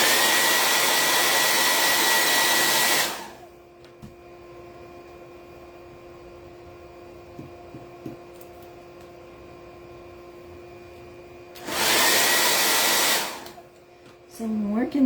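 A hair dryer drying a patriotic stars craft project for a fireplace mantel, blowing in two loud steady bursts with a quiet, faintly humming gap between them.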